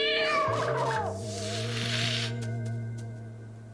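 A cartoon cat lets out a drawn-out, wavering meow up front, followed by a lower sustained yowl with musical tones under it, close and clear.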